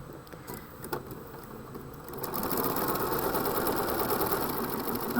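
A sewing machine stitches fabric pieces for a quilt block, its steady motor hum rising and running continuously after a short quiet start, close and alone.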